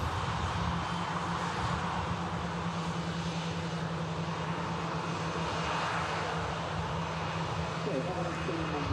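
Airbus A320neo airliner taxiing at Manchester Airport, a steady engine whine and hum at constant level, fairly distant, with faint talk over it.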